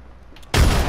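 A frag grenade in Apex Legends goes off with a sudden, loud, full blast after a half-second of near quiet, and the roar holds to the end.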